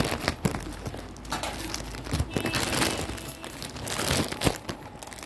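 Clothing parcel torn open by hand, close-up crinkling and crumpling of plastic packaging with sharp tearing bursts, continuous and fairly loud throughout.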